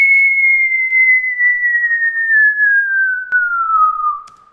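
A synthetic whistle tone built in Audacity, one long steady note gliding slowly downward in pitch for over four seconds, loud and alone, fading at the end with a faint click partway through.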